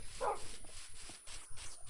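Dogs in a Minecraft-style crafting game give a single short bark near the start, followed by faint game ambience with no speech.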